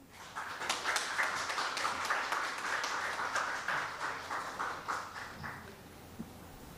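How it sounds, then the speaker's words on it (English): Audience at an oncology summit session claps in sustained applause for a speaker, dense and steady for several seconds before tapering off, with no talk over it. "A round of applause, please."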